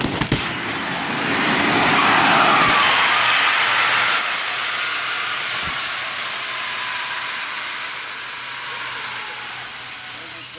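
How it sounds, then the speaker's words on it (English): Pressure release valves on a deployed life raft vent excess pressure with a loud, continuous hiss that holds steady for several seconds. A few faint knocks and background voices sit underneath. "pressure release valves are supposed to be doing that to relieve the extra pressure"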